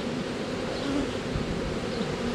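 A dense, steady buzzing of a honeybee swarm nearby, droning continuously at a constant loudness with no voices.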